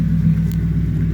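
A 2007 Mercury Grand Marquis V8 idling close by, a steady deep rumble with an even low throb and a small brief bump midway, no voices.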